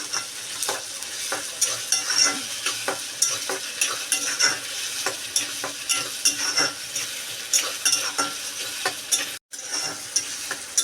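Onion frying with ginger-garlic paste in a pan makes a steady sizzle under constant brisk stirring, with repeated spoon scrapes and taps against the pan, close and busy throughout, briefly cutting out near the end.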